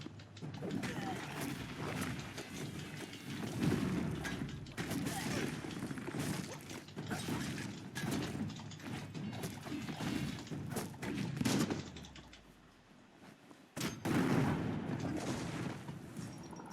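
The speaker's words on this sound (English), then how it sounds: "Bombardeio." Heavy bombardment with artillery thumps, crashes and rattling gunfire fills a BioMutant battle scene, loud and continuous with brief drops, as voices speak over the din.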